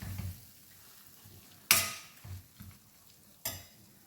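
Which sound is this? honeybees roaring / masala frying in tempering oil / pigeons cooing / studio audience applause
masala frying in tempering oil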